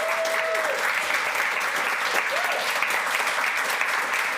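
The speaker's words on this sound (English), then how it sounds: "That is the longest applause we've had for anybody." An audience applauds steadily after a guest is introduced on stage in Chilliwack, a full, sustained wash of clapping with a few faint voices and whoops mixed in.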